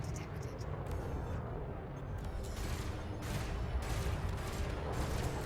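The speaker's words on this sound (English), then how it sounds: "Heavy cannons for the win!" Heavy cannons firing from a ship in the space combat game Elite Dangerous, a dense continuous barrage of booming shots with muffled rumble, steady and moderately loud throughout.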